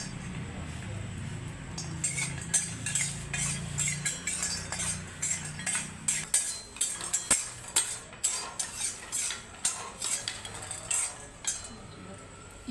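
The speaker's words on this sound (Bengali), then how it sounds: "এবার সুজিগুলো ভেজে নেবো।" Spoon scraping and clinking against a pan as semolina is stirred and roasted for barfi, a steady run of sharp metallic taps and scrapes close by, with a low sizzle-like hum fading out early and no talking.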